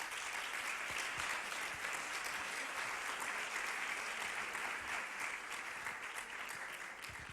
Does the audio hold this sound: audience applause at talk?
yes